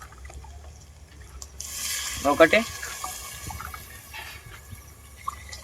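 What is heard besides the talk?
water being poured into a cooking pot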